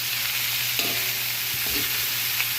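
Coconut milk goes into papaya and vegetables cooking in a pan. A steady sizzle and hiss fills the sound, broken by a few soft stirring scrapes and light knocks.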